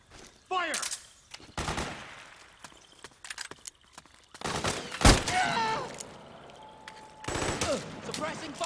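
Bursts of automatic gunfire from a Metal Gear Solid 4 firefight crackle in separate volleys, with short loud rattles, pauses between them and scattered battlefield noise.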